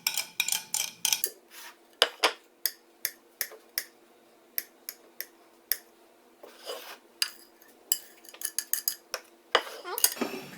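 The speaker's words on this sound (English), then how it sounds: "Now you just want to mix these up really well and get that mayonnaise all through there" A utensil scrapes and clinks against a bowl while mixing tuna with mayonnaise for a sandwich, a series of sharp, irregular taps and clatters, close and fairly loud, with no talking.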